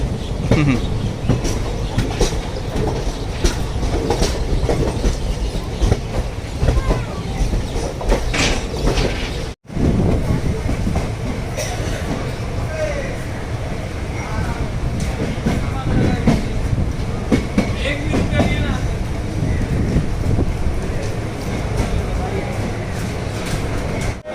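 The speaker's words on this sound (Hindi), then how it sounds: "Have entered Igatpuri railway station. Full foggy." Sewagram Express passenger train with old ICF coaches rolling into Igatpuri railway station in fog: loud continuous rumble and clickety-clack of wheels over rail joints with occasional squeals, recorded from on board, with voices in the background.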